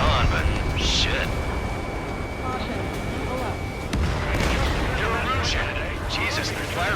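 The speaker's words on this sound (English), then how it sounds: "Jesus, they're firing at each other." Heavy gunfire and artillery bursts in Ace Combat 7, a dense, continuous battle rumble with scattered sharp cracks and booms throughout, mixed under faint radio chatter.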